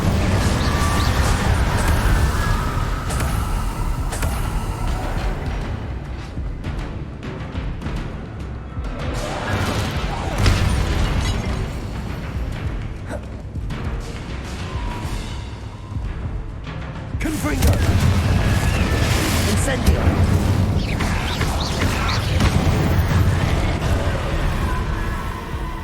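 Fire and explosion spells, Incendio and Confringo, cast in the Hogwarts Legacy video game: a dense, continuous run of loud crashing blasts and whooshing flames with bursts at irregular intervals, and a voice speaking over the combat.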